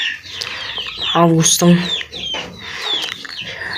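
Young chicks of about two and a half weeks, kept in a coop with hens, cluck and cheep near the listener, with a few short loud calls mid-clip, while a person talks over them.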